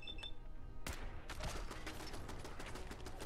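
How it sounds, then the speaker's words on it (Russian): Turret gun firing during a firefight in Fallout 4, a loud rapid burst of sharp shots that lasts through most of the stretch, with no talk over it. "Пушка там еще стреляет"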